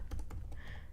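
Quick, close keyboard typing on a computer, a rapid run of soft clicky keystrokes in a brief burst.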